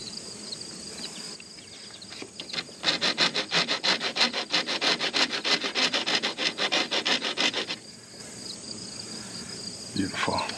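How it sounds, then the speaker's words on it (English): Rapid scraping strokes of a reamer working a copper pipe end for a mini-split line set, a close rhythmic rasping burst of several seconds between quieter moments. "Ream that a little bit."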